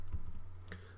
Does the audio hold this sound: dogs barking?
no